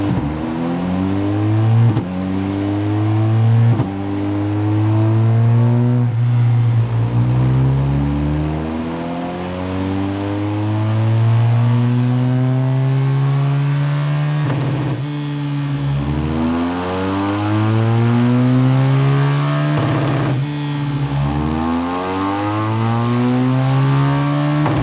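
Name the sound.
BMW R1250 GS motorcycle revving on a dyno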